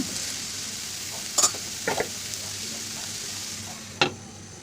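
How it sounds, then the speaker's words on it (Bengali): Snake gourd frying in a pan while being stirred, a constant close sizzle with a few louder scrapes and clinks of the spatula against the pan. "পরে আমি নেড়ে নিলাম, একটু নেড়ে চেড়ে"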